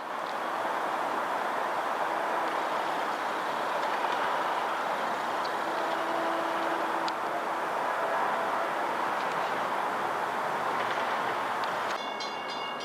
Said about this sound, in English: approaching now at 10:19 is the last train out of Montauk towards Jamaica tonight